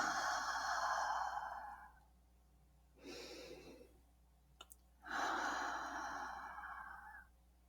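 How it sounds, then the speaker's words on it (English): Slow, deep grounding breaths during a guided meditation: a long airy exhale, a softer inhale, then another long exhale, quiet and close, with a small click between them. "Take a few slow, grounding breaths."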